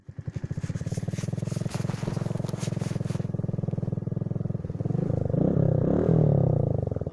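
An IZh Planeta 4 motorcycle engine runs in winter with a close, loud, steady two-stroke putter. It briefly rises in revs near the end, with no talking.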